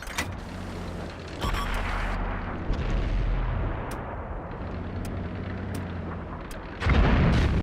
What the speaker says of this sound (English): Enemy artillery's got us pegged.